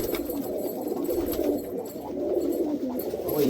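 Pigeons coo in a low, continuous murmur of overlapping calls, held steady and fairly close throughout with no talking.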